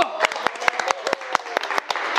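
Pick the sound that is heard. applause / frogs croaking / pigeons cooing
applause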